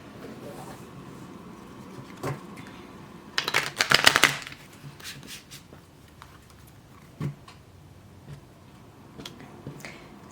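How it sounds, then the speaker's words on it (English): A tarot deck is shuffled close by, a quick riffling burst of card clatter in the middle, surrounded by quieter handling taps and soft card noises. "Let me just do a shuffle."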